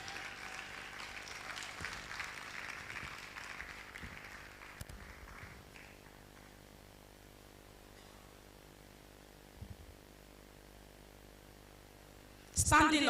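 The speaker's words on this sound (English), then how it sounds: "A round of applause for Mrs." Audience applause at a nurses' induction ceremony, a soft, steady wash of clapping for the first few seconds that fades out, leaving near silence, with a sudden loud burst at the very end.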